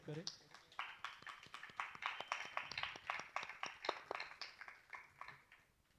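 A Methodist church congregation in Nadiad applauds in steady, rhythmic claps close by, with voices mixed in throughout.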